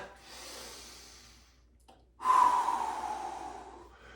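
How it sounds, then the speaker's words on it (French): Heavy, audible breathing of a person recovering after intense exercise: a softer exhale, a brief pause, then a louder gasping breath trailing off, close and alone without talk. "On reprend le contrôle de la respiration."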